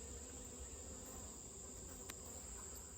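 Bees buzz during a hive inspection, a faint continuous drone hanging over soft ambient noise, with no one speaking.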